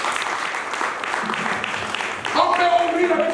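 Congregation at a French-language church sermon clapping together, a dense, steady wash of applause that swells louder near the end, with voices and cheering mixed in.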